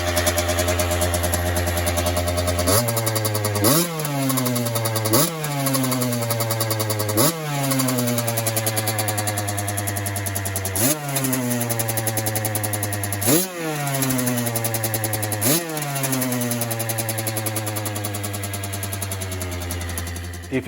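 A freshly rebuilt 1985 Kawasaki KX125 motorcycle engine, its cylinder still heavily oiled from assembly, idles loud and close at a slightly high idle, broken by about six sharp throttle blips that rise and settle back, with no talking.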